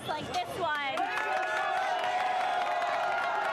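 A crowd cheers and roars at a West Virginia University home game, a loud, sustained wash of voices with some shouts and whistles rising near the start.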